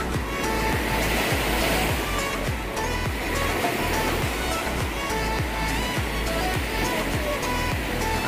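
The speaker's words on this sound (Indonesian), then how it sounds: "Rekomen banget nih berada di Pantai Batu Hideung, tepatnya tersembunyi." Waves at Batu Hideung beach in Tanjung Lesung wash in with steady, loud surf noise and a rhythmic low churn that repeats about every second, close and constant with no talking.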